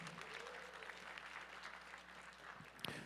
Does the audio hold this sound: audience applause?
yes